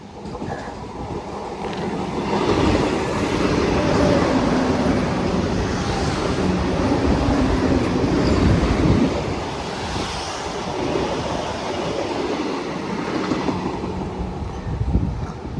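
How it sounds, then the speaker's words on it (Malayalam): The KSR Bengaluru–Ernakulam Junction Vande Bharat express skips a small halt station on a rainy, foggy morning, giving a sustained loud roar of wheels and rushing air that swells, then eases slightly as it runs through. "KSR ബാംഗ്ലൂർ എറണാകുളം ജംഗ്ഷൻ വന്ദേ ഭാരതാണ് ഇപ്പോൾ ക്രോസ് ചെയ്ത് പോയത്, ഇവിടെ നിന്ന് സ്കിപ്പ് ചെയ്ത് പോയത്"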